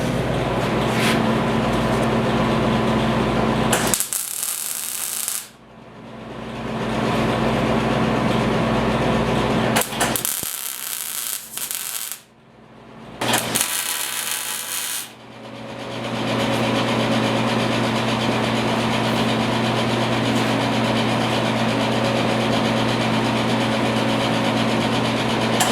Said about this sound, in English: Plug the welder in,